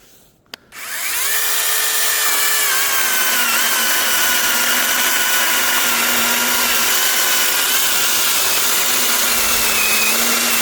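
A battery-powered saw bites into acacia wood, starting with a sharp click before the motor spins up into a loud, steady whine that holds through the cut with shifting pitch as the blade works through the timber, no voices.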